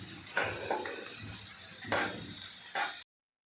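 Finely chopped onion sautés in a pan, a soft sizzle broken by three bursts of stirring scrapes, fairly quiet and close, ending abruptly in silence.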